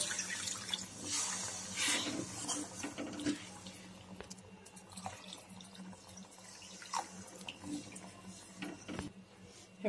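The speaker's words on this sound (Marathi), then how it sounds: "आता आपण याच्यामध्ये पाणी ऍड करणार आहोत" Water poured into a pan of potato masala while making egg gravy, a continuous splashing pour with scattered clinks and drips close by, fairly quiet throughout.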